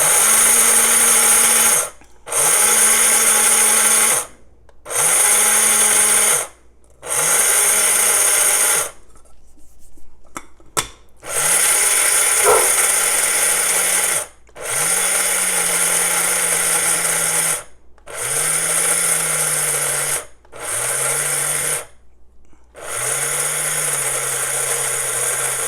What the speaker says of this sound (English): I'm gonna just pulse this one just to get a more even grind